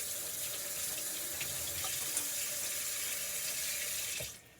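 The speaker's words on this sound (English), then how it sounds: "I like to take my bread, run it under water, and squeezing the water out." Tap water runs steadily over two slices of multigrain bread in a kitchen sink, a continuous close hiss and splash that cuts off sharply at the end.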